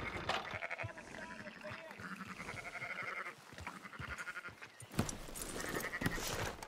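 Sheep bleating in Red Dead Redemption 2, a string of wavering calls over ambient game sound, with a voice talking between them.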